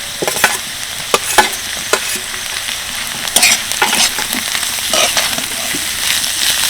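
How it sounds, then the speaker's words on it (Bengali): Onion and green chili are stir-fried with boiled vegetables for chow mein, giving steady close sizzling under repeated sharp scrapes and clanks of a spatula against the pan. "পেঁয়াজ আর কাঁচা লঙ্কা দিয়ে একটু নেড়ে চেড়ে নিলাম"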